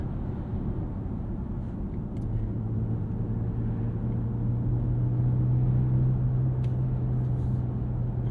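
Inside a 2023 Genesis GV60 electric car with its synthetic CVT-like sound mode, a steady low cabin rumble swells as a whirring tone rises and holds while accelerating, close and continuous, with no talking.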